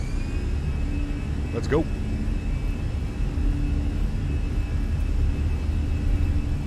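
Air Canada airliner engines spooled to takeoff power at Newark during winter operations in Microsoft Flight Simulator: a loud, steady jet roar with a high whine, while a voice speaks briefly over it.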